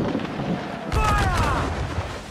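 Ship cannons boom in Assassin's Creed 4: Black Flag, a sudden heavy blast at about one second followed by rumbling echoes, with a voice calling out loudly over the firing.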